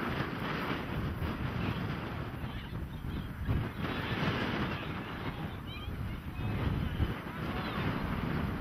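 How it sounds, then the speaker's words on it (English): Strong wind buffets an outdoor camera microphone, a steady loud rumbling roar that runs the whole way through with gusty swells and no clear voices. "Man, this wind is something."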